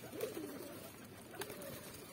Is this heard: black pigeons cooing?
yes